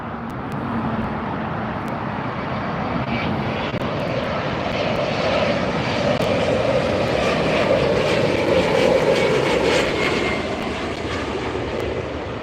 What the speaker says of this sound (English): This is Alaska Horizon E-Jet.